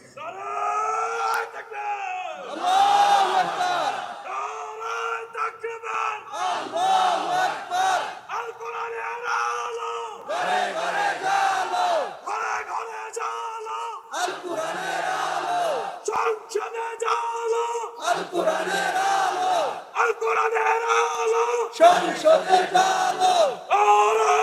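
A large crowd chants slogans in repeated rhythmic bursts, each shouted phrase separated by short pauses, loud massed voices echoing at a distance.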